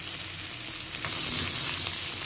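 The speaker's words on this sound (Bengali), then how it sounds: "এই ফোড়নের মধ্যে আমি কুচিয়ে রাখা পেঁয়াজটা দিয়ে দেব" Chopped onion added to hot tempering spices in oil gives a bright, steady sizzle that grows louder and fuller partway through, close up and with no voices.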